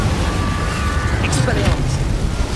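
Incendio fire spell cast in Hogwarts Legacy, a loud roaring whoosh of flame with crackling bursts over a dense rumbling game soundscape, steady and close throughout.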